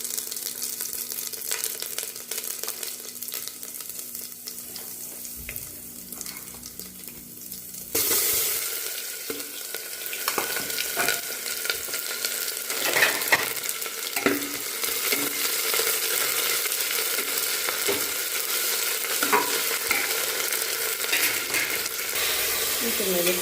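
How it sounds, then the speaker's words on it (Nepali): Tomato masala fries in a hot pressure cooker, a steady dense sizzle throughout that grows louder and brighter partway through, with stirring scrapes on top and no talking. "मैले टमाटर मसला सबै मिक्स गरेर लगाएको छु"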